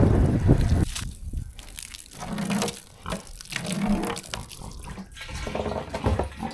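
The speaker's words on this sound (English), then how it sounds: "got us some water flowing" Water flows out of a barn pipe after ice was cleared from its end, a sloshing, gushing stream that surges and eases in waves, close and moderately loud.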